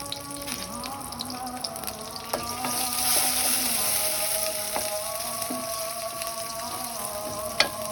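Onions frying in oil in a home kitchen for thick lentil dal, a steady soft sizzle running throughout with occasional clicks and light stirring sounds, close by and without talk.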